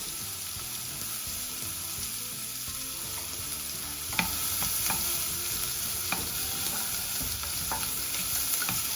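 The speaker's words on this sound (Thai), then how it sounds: "มันก็จะเอาหอมหอมกับ เห็ดที่เราหั่นเป็นชิ้นเล็กๆไว้นะคะ เอาลงมาผัด กับเนยค่ะ" Steady frying sizzle of onion and mushrooms sautéing in butter, with occasional stirring scrapes and taps of a utensil in a pan, close and continuous, no talking.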